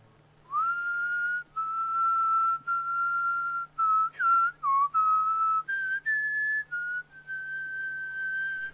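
A person whistles a short, bright melody alone, a series of sustained and gliding notes with brief pauses between phrases, steady and close, over a faint low hum.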